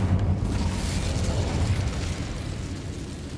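An Incendio fire spell cast in the Hogwarts Legacy video game erupts as a loud, sustained fiery burst that roars across the whole stretch and fades slightly toward the end, with no talk.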